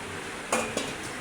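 Tora fish dropped into a pan of mashed potatoes for a village-style Bengali fish and potato fry, giving two brief clattering impacts about a quarter second apart, close and fairly loud over a quiet kitchen background.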